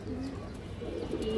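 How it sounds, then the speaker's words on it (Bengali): A pigeon gives a soft, low cooing call, faint and close against a quiet room background, with no talking. "এই দেখেন ফুল ডাউন শেপের কবুতর।"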